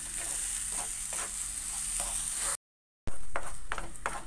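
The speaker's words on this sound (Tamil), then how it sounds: "இப்போ நல்லா கிளறிக்கிட்டே இருங்க." Jackfruit halwa with melting sugar is stirred in a pan, giving a soft sizzle with repeated scraping strokes, close and clear, with a brief silent cut midway.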